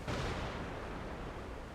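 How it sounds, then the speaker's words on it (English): Dense, continuous gunfire roars without pause in DCS World, a heavy sustained barrage that stays loud throughout with no voices over it. "just the sustained heavy rate of gunfire"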